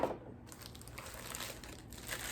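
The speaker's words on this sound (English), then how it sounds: "I'll just unwrap one. There's 2 in here, but I'll unwrap both." DeGrazia coasters being unwrapped by hand, a steady close crinkle and crumple of wrapping material running throughout at a soft level, with no talking.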